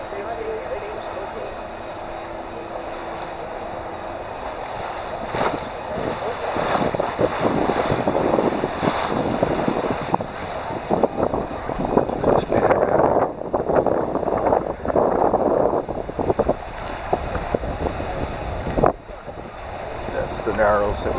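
An electric-motor boat churns across a lake with wind buffeting the microphone and splashing waves, engine and water noise building louder midway, with a voice talking at times.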